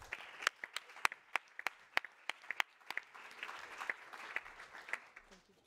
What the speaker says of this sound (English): I would really like to welcome you on stage right here with a